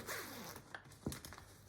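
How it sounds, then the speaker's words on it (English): A zipper on an Uppababy Vista V3 stroller fabric is pulled open up close, a quick rasping run with a couple of short tugs. "And a zipper here"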